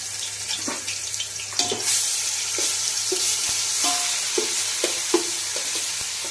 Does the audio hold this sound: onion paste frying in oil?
yes